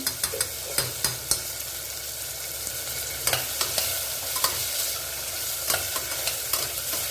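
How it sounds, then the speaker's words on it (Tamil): Green chillies and onions sautéing in oil in a pan for a seeraga samba veg biryani, a continuous close sizzle broken by repeated sharp clinks of a spoon stirring against the pan, with no voices. "பச்சை மணி நல்லா லைட்டாக வதங்கிட்டு இருக்கும்போது வெங்காயம் சேர்த்துக்கலாம் கொஞ்சம் வேக விட்டுக்கோங்க"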